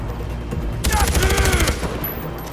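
A rapid burst of automatic gunfire in the video game Far Cry 4 rattles for about a second, preceded and followed by quieter background noise and a hint of voice.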